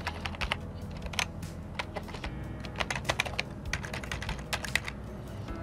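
Someone types a password on a computer keyboard to sign in to an email account. The key clicks are quiet and irregular, with short bursts and pauses between them, and no one speaks.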